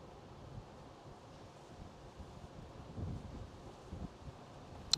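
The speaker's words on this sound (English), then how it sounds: "It's quite windy today." Steady wind buffets the microphone with a low, rumbling roar that swells in gusts, and a faint rustle sits underneath.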